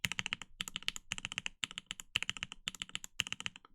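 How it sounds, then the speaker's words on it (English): Fast typing on the home row of an MTNU mechanical keyboard with PBT keycaps, heard as close, crisp, deep keystrokes in quick bursts with short pauses between them. "show you guys next to each other what the keys sound like"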